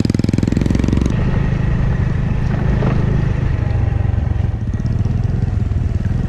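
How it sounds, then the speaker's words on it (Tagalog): A motorcycle engine putters loudly and close by, with a steady rapid rhythm and some rattling, continuous throughout. "Wow ang motor."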